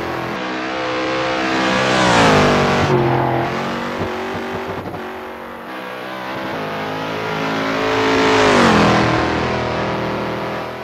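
Shelby Cobra 427 V8 race car in a racing game, revving hard through rising and falling sweeps as it accelerates and shifts, a loud, raw engine roar heard alone and up close.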